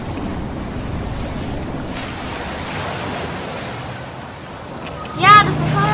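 Ship propellers churn water steadily as the hospital ship HMHS Britannic sinks in a video game, a continuous surf-like wash with a brief sharp burst near the end and no speech.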